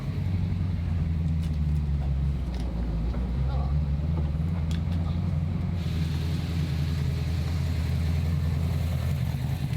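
A Ford GT40's engine runs steadily at a low, rumbling pitch throughout, loud and continuous with road noise, as it drives along.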